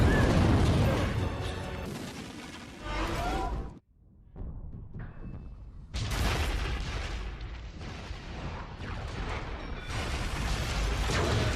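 An explosive barrel rolls into a factory in a ragdoll video game and blows it up, a loud, sustained roar of blasts and rumble that briefly drops away before erupting again and continuing densely.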